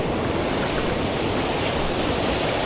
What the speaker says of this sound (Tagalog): Parang hindi makakalangoy yung stick dito, kaya malakas yung alon.